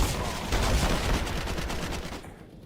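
Rapid MP9 submachine-gun fire in a competitive shooter video game, a fast stream of closely spaced shots with hard impacts, loud and steady before cutting off abruptly near the end.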